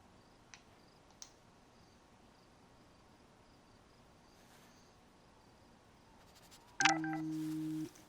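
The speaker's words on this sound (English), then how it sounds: "Oh, my phone went off." Phone going off in the Life is Strange video game: after quiet ambience with faint ticks and insect chirps, a sudden electronic tone alert sounds near the end for about a second.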